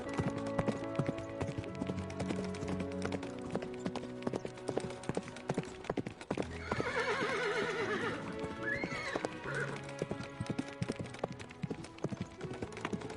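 Rhythmic clip-clopping hooves run throughout, with a horse neighing loudly in the middle and a shorter whinny after, close by.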